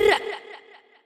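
A short vocal 'brr' processed with reverb, echo and a pitch shift gives a quick, chirpy, lemming-like trill that decays into a fading echo tail within about a second.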